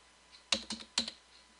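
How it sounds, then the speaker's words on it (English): Keys clack on a computer keyboard as a few quick keystrokes are entered in a short burst, close and quiet, with no talking. "Now in the value box, simply type in the sow ID separated by a space."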